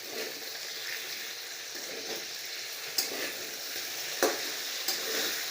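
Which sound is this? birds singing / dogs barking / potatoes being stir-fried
potatoes being stir-fried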